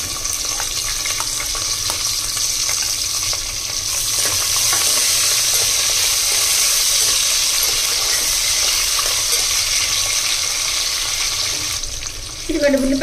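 Sliced onions and cashews crackle in hot oil for biryani with a continuous, fairly loud sizzle that swells and holds steady.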